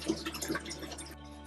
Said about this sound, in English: I can take the lid off the Paterson tank and use the lid as a funnel to save the fixer back into the same bottle